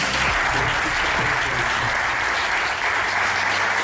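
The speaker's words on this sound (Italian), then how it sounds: "quindi volevo un applauso" Sustained applause from an audience at the presentation of the Atletico Sorrento football club, steady and dense for the whole stretch, with a faint voice or two underneath.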